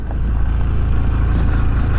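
A truck, a car and an SUV pass close by on a trail road in the Pisgah Ranger District, a loud steady engine rumble that holds heavy throughout as the vehicles roll past.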